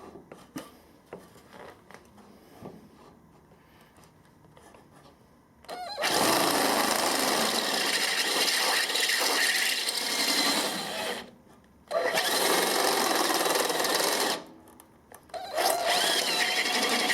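A power drill whirs loudly in long bursts while removing a sump plug, stopping briefly between runs, preceded by quieter clattering and handling noises.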